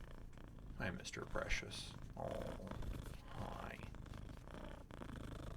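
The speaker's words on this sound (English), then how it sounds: "You may not be able to hear the kitty as he is very purring right now." A male cat purring steadily up close while a person talks over it, the low rumble running under speech throughout.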